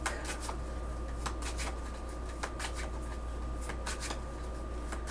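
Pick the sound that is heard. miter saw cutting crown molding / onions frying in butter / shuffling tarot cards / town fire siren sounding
shuffling tarot cards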